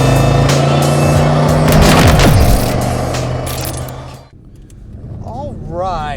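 A black 1990 Chevrolet 454 SS pickup with 20,000 miles rumbles along, its engine drone loud and steady at first, then easing off and falling quieter partway through while a voice speaks over the last seconds.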